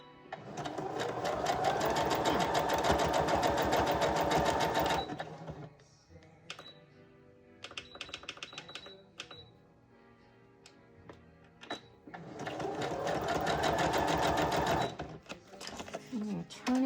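Sewing machine stitching a zigzag through a handmade journal, two long fast bursts of rapid needle clatter with a quieter stretch of clicks and handling between them.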